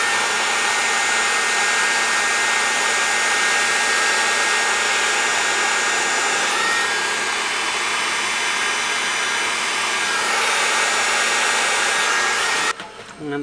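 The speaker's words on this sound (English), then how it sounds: "I'm going to warm up the can a bit with my heat gun." A heat gun blows hot air to warm a capacitor can while repairing a Fender Tremolux amp, a loud, steady close-up roaring whoosh lasting about thirteen seconds before it cuts off abruptly with a click.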